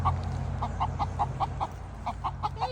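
Free-range chickens clucking nearby, a quick series of short, evenly spaced clucks over a low steady background hum, with no talk.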